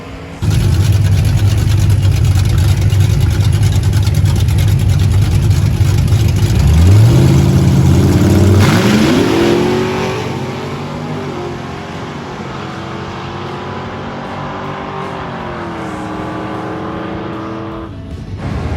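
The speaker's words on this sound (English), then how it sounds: "Josh is going to turn on the NITROUS kit and see if he can make something happen." A nitrous-equipped 1978 Oldsmobile Delta 88 launches in a drag race: a loud, sustained engine roar that surges, shifts and then fades as the cars pull away down the track.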